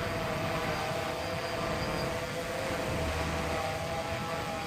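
The Wingsland Scarlet Minivet drone flies outdoors with a steady, loud whine from its propellers and rushing wind noise that never lets up.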